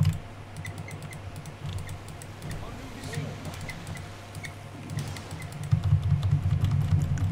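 Quick, faint clicks from a computer keyboard pick up through a voice chat during a Dota 2 game. They tick irregularly beneath a person talking nearby.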